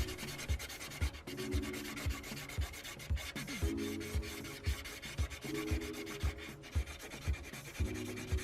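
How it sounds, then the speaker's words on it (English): A spill is scrubbed hard off a metal computer case panel in quick, rhythmic rubbing strokes, roughly two per second, with a close, gritty scraping texture and no speech. "so I had to use some elbow grease to remove this."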